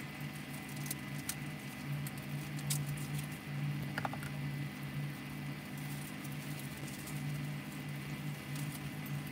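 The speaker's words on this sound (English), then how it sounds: "The vegetables are starting to sizzle." Vegetables and garlic crackle and sizzle steadily in a hot frying pan outdoors for a kimchi egg scramble, a continuous close patter of popping oil with a low steady hum underneath and no talk.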